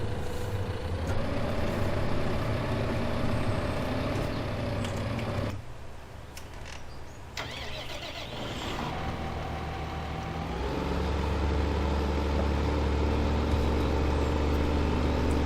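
Several farm vehicles in Farming Simulator 2015 rumble steadily, with deep idling engine drone, a brief drop in loudness midway, then engines revving back up louder as the machines set off.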